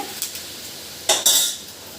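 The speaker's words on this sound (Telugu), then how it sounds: "ఇప్పుడు మరిగే ఆయిల్ని ఒక గరిటె యాడ్ చేసుకోవాలండి." A ladle of hot oil goes into gram flour for Mysore pak and gets stirred in, giving short metallic clinks of the ladle against the vessel and a brief louder sizzling, scraping burst near the end.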